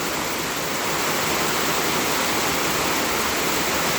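Heavy late-afternoon rain pours down in a steady, dense hiss that fills the whole clip without break, close and loud, with no voices.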